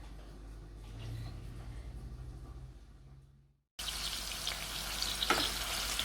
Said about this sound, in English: I'm just frying my onions until they are golden brown